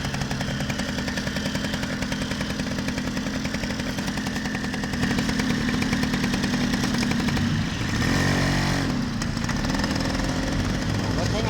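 A Yamaha Mate 100 small motorcycle runs while being ridden, its steady, buzzing single-cylinder putter close and continuous, rising slightly in loudness midway with a brief dip near the end.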